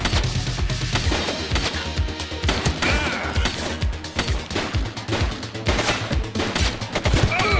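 Rapid gunfire from the police video game The Precinct, dense bursts of shots and crashing impacts running continuously and loudly throughout with no pauses.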